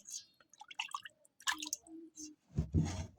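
Water goes into a container to soak cassava, at first a few scattered drips and small splashes, then a short fuller pour of water near the end, close by with quiet gaps between.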